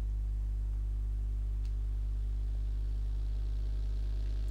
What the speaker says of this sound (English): Car coming, but I don't know where.